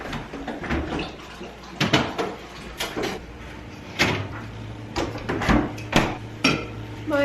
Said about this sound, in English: So now I'm gonna load up the fridge.